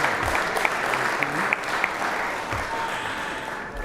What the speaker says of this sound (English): Let's give Casey a round of applause.